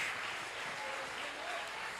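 A church congregation claps for a few seconds, a faint, even wash of applause with a voice murmuring beneath it.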